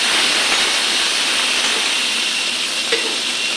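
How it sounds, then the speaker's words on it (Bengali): Cut potatoes frying in fish oil make a constant, loud, even hiss and sizzle with a few tiny pops, and no one speaks. "আলুটা আলাদা ভাজা করে নিই এটার সঙ্গে ভাজা হয়ে যাবে মাছের তেল দিয়ে আলু ভাজা"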